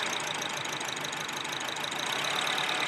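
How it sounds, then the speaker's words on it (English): A 2004 Acura engine idles close by with a steady, slightly rough mechanical hum as a spark plug wire is pulled, the running note holding fairly even through the short stretch. "Hear how that RPM changes when I pull it off."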